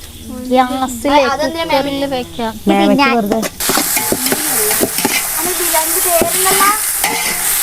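Tomatoes tipped into a hot pan for biryani, then stirred through a steady, bright sizzle that fills the second half, with a voice heard over the cooking at the start.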